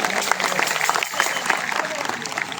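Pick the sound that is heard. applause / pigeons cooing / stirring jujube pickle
applause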